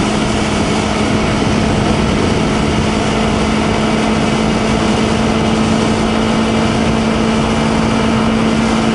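A 2020 Honda CBR250RR two-cylinder motorcycle running at high speed, giving a loud, steady, high-pitched engine drone mixed with constant wind rush and no break.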